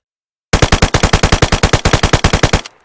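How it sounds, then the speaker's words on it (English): Submachine gun firing full auto in DayZ, a loud rapid burst of about twenty evenly spaced shots, close and alone, ending with a short tail. "At full auto though, this weapon is not great at this range, which is not surprising, as it is only a submachine gun."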